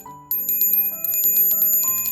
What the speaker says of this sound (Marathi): ही एवढी छोटीशी डुअर बेल.